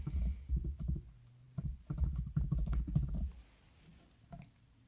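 Close, quiet keyboard typing in irregular bursts of keystrokes as a zip code and email address are entered, with no voices, tapering off toward the end.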